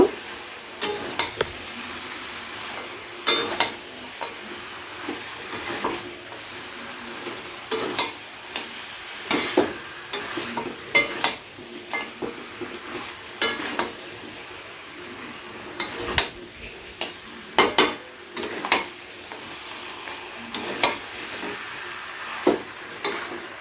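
Fried vegetables being stirred into a fish head chhyachra in a pan, with repeated scraping and knocking strokes of a spoon over a soft, continuous sizzle that runs through the whole stretch.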